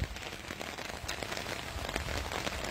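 Heavy rain falls in a dense, steady hiss of countless drops pattering nearby, continuous throughout with no voices.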